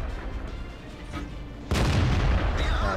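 A tank cannon fires in the World of Tanks video game. After a stretch of low engine rumble, a sudden loud boom hits and its roar stays sustained to the end.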